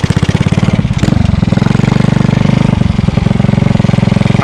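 A homemade 90cc mini motorcycle built from scrap parts runs up close, its engine loud and continuous with a fast, even rattling pulse and a brief rise in revs.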